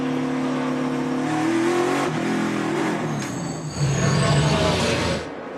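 A NASCAR race car accelerates hard out of a pit stop at The Glen road course. The engine climbs loudly through the gears and holds a strong roar, with crowd and track noise behind it.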